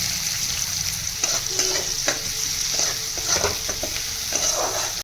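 Loud, continuous sizzling of onion frying in oil left from frying pointed gourd, with scattered clicks and scrapes of stirring.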